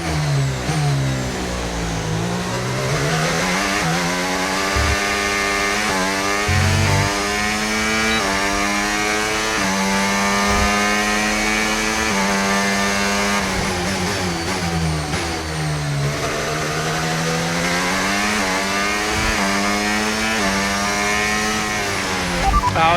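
Formula 1 car in the F1 25 racing game lapping steadily, its high-pitched engine note rising and falling through gear changes and corners, loud and continuous for the whole stretch with no talking.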